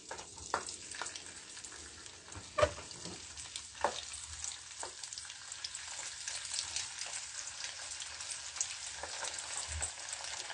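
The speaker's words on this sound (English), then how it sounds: "So now we're just going to be frying the chicken." Chicken fries in hot oil during a live cooking session, a steady close sizzle with occasional sharper pops and stirring clicks throughout.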